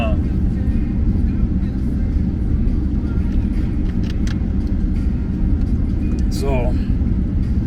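A car is driven with the sound recorded from inside the cabin. A steady low road rumble and engine drone run throughout, with faint brief tones above it and no clear talk.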